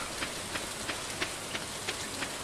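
Soft steady rain falls in Stardew Valley, a faint continuous patter with light, evenly spaced drop taps.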